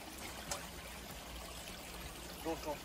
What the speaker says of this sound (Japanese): 雨降りやがった。